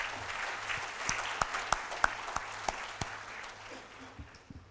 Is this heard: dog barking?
no